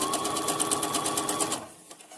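A sewing machine stitches steadily along a pipe cleaner set into a fitted pocket face mask, giving a close, even, rapid mechanical whir that runs for about a second and a half, then stops, leaving quiet handling noise.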